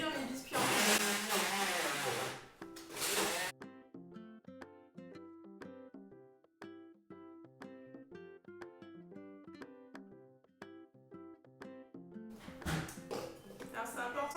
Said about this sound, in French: je viens avec un mixeur réduire mes biscuits en poudre